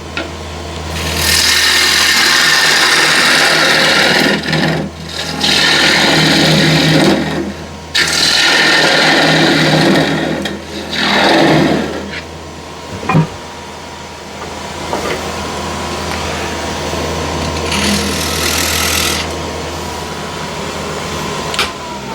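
A wooden bowl being hollowed on a lathe: a loud, steady motor hum under long bursts of harsh scraping as the tool cuts the inside, pausing and resuming several times, with a few sharp knocks.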